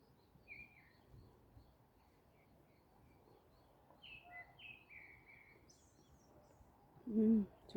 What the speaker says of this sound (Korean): 아, 새소리 참 이쁘다.